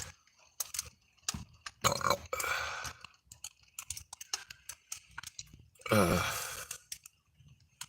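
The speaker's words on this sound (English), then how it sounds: "Sorry about the belching." Wet, gulping belches burst out in two strong rounds near the two- and six-second marks, with smaller throaty grunts and clicks scattered between them, close and loud against a quiet room.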